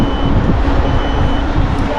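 An electric scooter gives a steady high-pitched warning beep that keeps sounding over loud wind and motion rumble, close and continuous.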